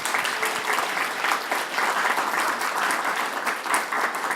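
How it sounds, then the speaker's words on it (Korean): A church congregation claps steadily after a sermon, a dense, even patter of applause lasting several seconds. "큰 박수로 감사의 말씀을 전해드리겠습니다"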